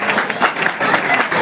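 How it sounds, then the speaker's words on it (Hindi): Loud, dense clapping from a crowd at a community award ceremony in Delhi, honoring a young girl receiving a shield, medal and certificate, steady throughout. "जोरदार तालियां बच्ची के लिए।"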